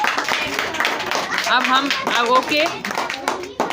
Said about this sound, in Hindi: कार्तिक के लिए ताली बजाओ